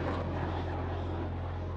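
A military jet at a Marine Corps air station roars steadily in the distance, a low, sustained engine rumble with no breaks across the brief moment.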